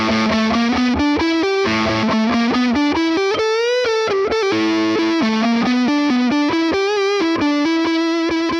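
Sire H7V electric guitar played through distorted, chorused effects, a continuous melodic line of sustained, bending notes with thick harmonics, loud and alone without any talking.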